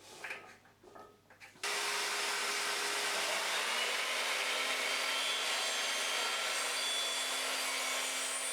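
An Evolution Rage 3 sliding mitre saw motor starts abruptly and holds a loud, steady whine through a 45-degree bevel cut, the blade's tone dipping slightly as it bites into the wood, with no talk.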